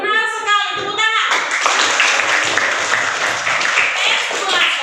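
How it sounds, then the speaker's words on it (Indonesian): A classroom full of students claps in a burst of hands that starts right after a brief spoken line and carries on steadily and briskly for several seconds. "Tepuk tangan."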